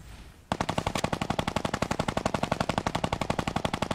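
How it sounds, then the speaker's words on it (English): Rapid automatic gunfire in a video game begins after a brief quiet start, then a steady fast burst of sharp shots continues loud and unbroken to the end. "he's not shooting towards you. He's shooting towards the east."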